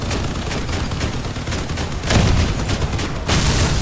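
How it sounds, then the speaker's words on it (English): Machine gun and autocannon fire in the Crossout vehicle combat game, a dense continuous barrage of rapid shots with heavier bursts swelling near the end, loud and close with no talking. "He's got two machine guns and the auto cannon."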